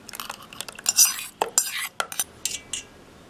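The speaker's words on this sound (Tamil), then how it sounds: "நல்லா மிக்ஸ் பண்ணிக்கலாம்" Old cooked rice being mixed with curd and salt in a steel vessel, heard as a quick irregular run of close metallic spoon scrapes and clinks against the bowl, with no voices.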